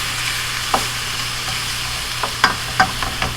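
Shrimp are dropped into a pot of spaghetti squash soup with bok choy on low heat, giving a steady close sizzle with a few sharp stirring clinks and scrapes and no talking.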